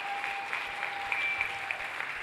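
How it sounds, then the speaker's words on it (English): Audience applause at a live speaker event in Las Vegas, a steady wash of many hands clapping, dense and sustained throughout with no voices over it. "Give these guys a round of applause."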